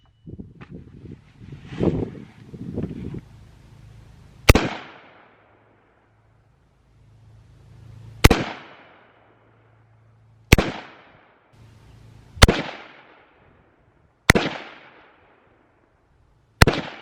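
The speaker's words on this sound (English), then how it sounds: "I took those 3 shots at the target" Rifle shots fired at a paper target 10 yards away, six sharp cracks spaced a few seconds apart, each loud and close with a short ringing decay; faint handling noise and rustle come before the first shot.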